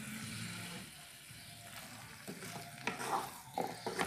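Potatoes go into a hot frying pan for cod moqueca, giving a soft sizzle followed by several close scraping, clattering stirs against the pan.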